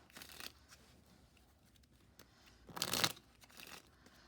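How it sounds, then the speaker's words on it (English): Playing cards shuffled for a magic trick, with two brief riffle bursts, a short one at the start and a louder one near the end, separated by quiet handling noise. "So I'm going to shuffle one more time."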